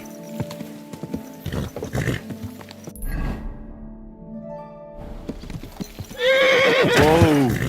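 Hooves clop loudly in a fast rhythm as a horse runs in Kingdom Come: Deliverance 2, the pounding dropping away briefly before a loud, shrill, wavering neigh closes the stretch, close and prominent.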